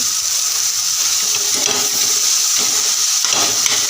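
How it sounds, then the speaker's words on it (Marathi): Spices and turmeric sautéing in hot oil for Marathi brinjal bharit, a loud, dense, continuous sizzle close up with faint scraping of stirring underneath, no talking. "तेलाला मस्त असं परतवून घ्यायचं तर बघा मी मस्त परतवून घेतलं"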